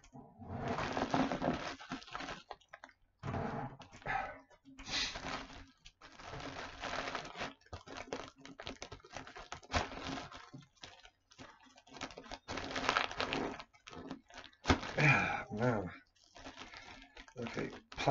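A plastic package is pried and torn open up close, giving bursts of crinkling, snapping and rustling with short pauses between them. A voice is heard at times.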